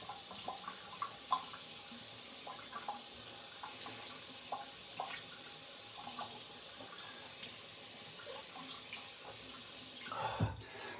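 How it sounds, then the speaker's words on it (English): Tap water runs steadily into a bathroom sink for a warm and cold face rinse after shaving, with light splashing and a few soft clicks and drips, fairly quiet and close, and no voices. "So I did a warm water rinse off and then a cold water rinse off because it feels good."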